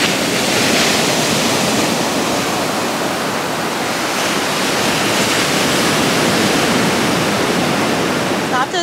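Steady, loud ocean surf wash along an outdoor beach path at Crystal Cove on a foggy day, a continuous broadband roar with no distinct breaks, heard up close and alone.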